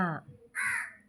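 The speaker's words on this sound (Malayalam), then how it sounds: "ആ കാക്ക കണ്ടോ ബാക്ക്ഗ്രൗണ്ടിൽ നമുക്ക് വേണ്ടി മ്യൂസിക് ഇടുന്നുണ്ട് കാക്ക" A brief voice, then a single harsh crow caw nearby, fairly loud and clear.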